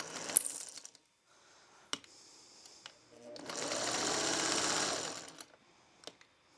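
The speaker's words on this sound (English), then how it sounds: "once you've been sewing on a machine for a while, you know when it sounds off" A home sewing machine stitching a fabric kit runs in one steady whirring burst of about two seconds, with brief clicks and taps before and after in a quiet room.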